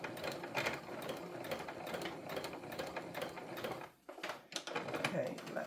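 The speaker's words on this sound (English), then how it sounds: "It's also good to make sure that my sewing machine is all threaded up" A sewing machine runs a straight stitch through fabric for a beginner's scrunchie, a fast rhythmic mechanical whirring that pauses briefly near the end, then resumes.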